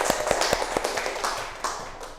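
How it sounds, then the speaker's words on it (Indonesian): Classroom clapping for a student during a microteaching lesson: a handful of quick, evenly spaced claps ring out clearly, then trail off into a soft murmur. "Tepuk tangannya."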